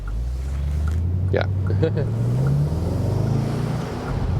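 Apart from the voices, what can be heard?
Bentley Continental GT V8 engine sound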